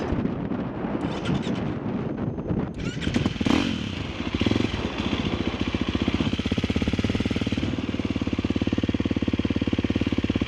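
A 350 dirt bike engine clatters and revs up close, then settles into a steady, loud running drone with a buzzy, pulsing rhythm and some wind noise; no talking.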